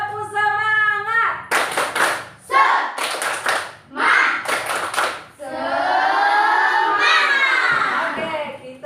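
Children clap a quick patterned rhythm in bursts, alternating with chanted group voices in Indonesian; lively and close, sometimes layered over each other.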